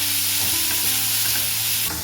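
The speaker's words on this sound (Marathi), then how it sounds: "शिमला मिरची आणि गाजर घालून घ्यायचं आहे आणि ते पण छान असं सॉफ्ट होईपर्यंत आपल्याला परतून घ्यायचं आहे।" Capsicum and carrots sauté in a pan, giving a steady, loud, close sizzle with stirring scrapes throughout and no voices.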